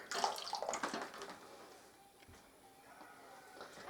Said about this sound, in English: My water is all ready to come out of the canner.